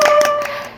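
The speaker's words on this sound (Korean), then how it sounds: "박수 박수!" A few quick hand claps close up, sharp and bright, at a consumer award ceremony for a fireplace company, fading within a second.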